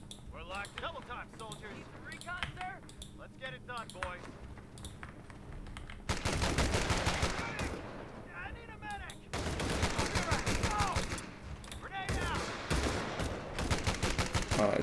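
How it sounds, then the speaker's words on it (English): Machine guns fire in the Company of Heroes 3 strategy game: rapid rattling bursts, some distant and some loud and close, mixed with other weapon fire and brief game voice lines between volleys. "The machine gun in the back."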